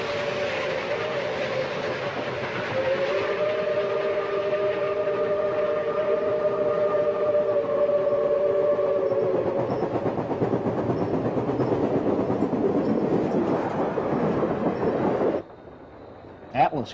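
Model steam locomotive, Southern Railway engine 4501 pulling an excursion train on a large indoor layout, a long sustained whistle-like tone over running rumble and rail clatter, cutting off abruptly near the end.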